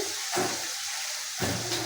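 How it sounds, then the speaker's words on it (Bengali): Water splashed into spices frying in a pan for beef and vegetable khichuri, heard as two close, rushing hissy bursts over a steady background. "আমি একটু পানি দিয়ে দিব, মশলাটা পুড়ে যেতে পারে"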